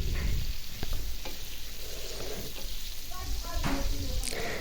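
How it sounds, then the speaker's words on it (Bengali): Prawns frying in a pan for chingri malai curry, a bright hissing sizzle with a few stirring knocks, close and steady, without talk. "তো আমি চিংড়ি মাছটাও ভেজে নিলাম দেখুন"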